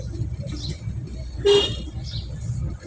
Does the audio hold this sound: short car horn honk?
yes